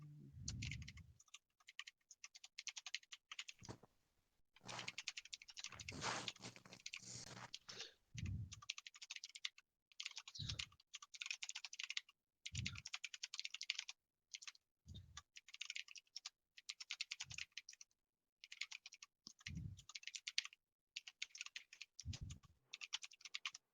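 Rapid bursts of typing on a computer keyboard, fairly close, with dense clicking runs separated by short pauses and a few low thumps.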